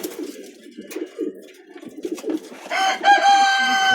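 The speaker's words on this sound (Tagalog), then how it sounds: "Ang ating mga ibon." Taiwan imported pigeons cooing close by in soft low repeated phrases, followed by a louder stretch of bird calls with a sustained tonal squeal.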